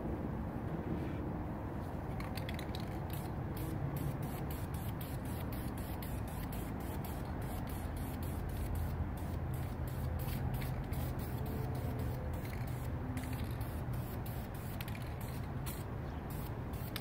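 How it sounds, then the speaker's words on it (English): Spray paint misted lightly over a Batman prototype figure, a steady close hiss of aerosol that runs without a break for the whole stretch, with faint rattly bursts on top and no talking. "I'll go ahead and spray the outside a little bit too"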